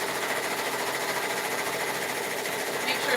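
A 12-needle embroidery machine stitches steadily, a dense continuous mechanical whir at a constant level, close by and without pause.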